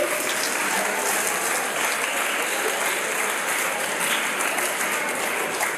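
Audience at a college program opening in Nagaroor breaks into sustained, dense applause, a loud continuous clatter of many hands that holds steady throughout without talk.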